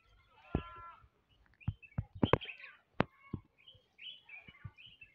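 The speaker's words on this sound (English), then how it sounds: "Let's have the feelings of the bird from this top beautiful tree." Several birds call from a treetop in a Kenyan countryside village, with short sharp chirps and whistled notes coming in irregular bursts, fairly close and clear over a quiet background.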